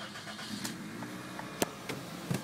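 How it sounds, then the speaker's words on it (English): A 2006 Toyota Corolla Levin's engine turns over and catches nearby, settling into a rough idle with a few sharp clicks and knocks. "Also, I will start the car for you."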